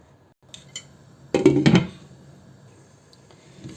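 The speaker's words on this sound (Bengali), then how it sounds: "এখন আমি মশলাটাকে কষিয়ে নেব" A spice paste is stirred and fried in a pan, heard as a few light utensil taps followed by a short loud burst of scraping and clinking, then a faint quiet tail.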